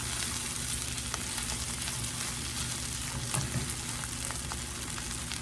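Corn frying and searing in a hot skillet, a steady close sizzle and crackle with faint scraping from stirring, no voices.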